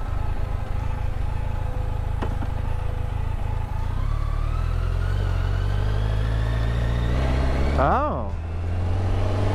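A BMW K1 motorcycle engine drones steadily while riding, its pitch slowly rising, with wind rush and a brief rising rev near the end; a rider speaks a little over it.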